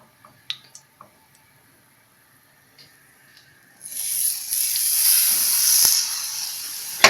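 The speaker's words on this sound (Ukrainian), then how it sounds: "Обжарюємо відбивну з кожної сторони по 3 хвилини." A few faint clicks, then a loud broadband sizzle starts partway through and holds steady as a cheese-breaded cutlet hits hot oil in a frying pan.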